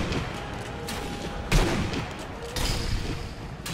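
Gunfire in Sniper Elite 3, with sharp bursts of shots at irregular intervals over a steady background of battle noise.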